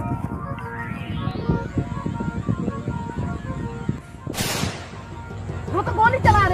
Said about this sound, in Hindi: वो तो गोली चला रहे हैं, पीछे हटो